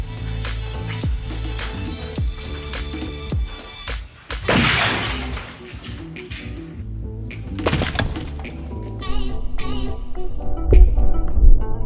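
A giant block of lead drops onto a watermelon and honeydew, giving a loud burst of crushing and splattering, followed by scattered wet thuds and debris noises, with a few louder knocks at the end.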